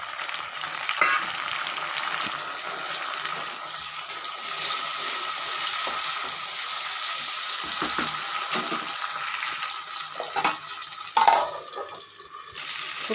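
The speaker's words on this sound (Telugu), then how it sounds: "ఆయిల్ మరుగుతుండగానండి ఉల్లిపాయలు అవి వేగుతున్నాయి కదా, ఇప్పుడు టమాటాలు కూడా వేసేద్దామండి" Onions and tomatoes frying in boiling oil in a pan for a raw prawn and drumstick curry, a continuous close sizzle with stirring scrapes and a few sharper spatters, no talk.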